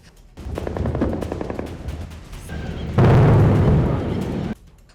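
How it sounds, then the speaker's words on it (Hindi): Heavy gunfire at the India-Pakistan border, dense rapid bursts of shots, loud and near, swelling into a harsh roaring volley before cutting off. "भारत और पाकिस्तान के बीच सीमा पर जोरदार फायरिंग चल रही है।"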